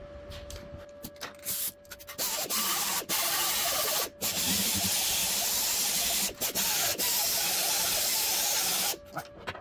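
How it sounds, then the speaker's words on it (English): Air grinder working the back side of a thin sheet metal flux-core MIG weld, a steady loud abrasive hiss and whir with several brief pauses where the tool lifts off. "I'm gonna get my air grinder, clean up the back so it don't transfer"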